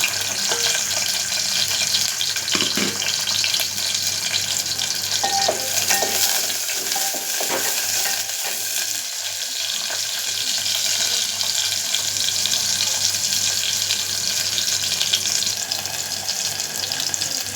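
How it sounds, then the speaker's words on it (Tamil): Small shallots fry in hot oil with a loud, dense, steady hiss and crackle, close by, broken now and then by soft stirring and scraping of a spoon in the pan. "வெங்காயம் நல்லா பொரிஞ்சு வந்துடுச்சு."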